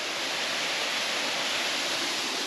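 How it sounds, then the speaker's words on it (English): A waterfall along a walking path gives off a steady, close rushing roar that stays even and continuous throughout, with no voices over it. "So this is waterfall number 2/3, depending on whether down the bottom there it was one or two waterfalls."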